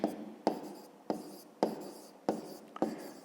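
Handwriting during a fifth-grade maths exercise: about six crisp, close pen strokes, each a sharp scratch that fades quickly, with short pauses between them and no talking.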